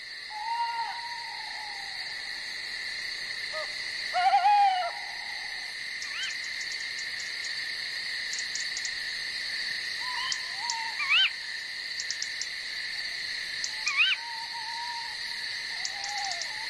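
At night, an owl's hoots carry over a steady background of insects or frogs, the calls repeated at intervals with one louder burst near the middle, where owlets wait in the dark for food.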